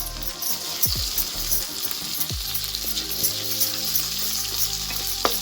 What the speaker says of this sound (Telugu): ఈ ఉల్లిగడ్డ పేస్ట్ ఫ్రై అయిపోయింది కదా అల్లం వెల్లుల్లి పేస్ట్ వేసుకుంటాం